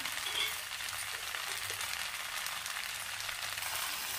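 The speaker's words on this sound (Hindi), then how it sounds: "दाल डालते हैं, सब्जी फ्राई किया हुआ, तो अच्छी तरह मिक्स करते हैं।" Jackfruit curry with dal and salt sizzles and fries in a pan as it is stirred, giving a steady, close crackling hiss that stays even throughout.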